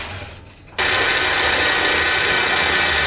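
A sewing machine bobbin winder, used on a longarm quilting setup, starts up abruptly and then holds a loud, steady whir as the bobbin winds, after a short quieter lead-in.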